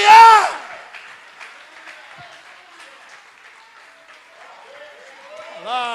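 Congregation at a Pentecostal church service applauding, a steady mid-level wash of clapping between louder shouted voices at the start and end.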